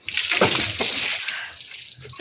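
Water gushes and sloshes out in a bright, steady rush, loudest early on, then thins to a softer trickle before a final splash.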